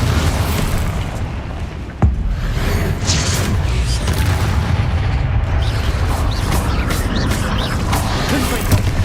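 Bombarda spell explosion in Hogwarts Legacy, a single sharp blast that bursts out of dense, loud, constant game noise and rumble, with no voices over it.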